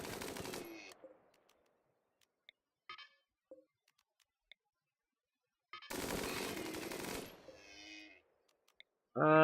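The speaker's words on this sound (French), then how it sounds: "Moi je chasse à la mitrailleuse." Bursts of machine gun fire in the Rimworld game, two rapid rattling volleys separated by quiet gaps with scattered single clicks and tones, fairly close and crisp.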